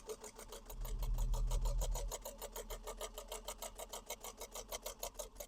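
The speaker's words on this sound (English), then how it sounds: "you are going to stitch around the outside edge of your interfacing" A sewing machine stitches around the outside edge of interfacing on an Alice Wristlet bag in a steady, fast, even chatter of needle strokes, close and continuous, with a low motor hum that is louder at the start.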